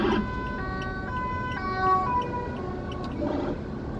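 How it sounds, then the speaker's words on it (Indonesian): An ambulance siren wails with rising and falling tones on a toll road, fairly close and steady over the hum of passing road traffic. "itu kita prioritaskan itu karena mobil ambulan ya"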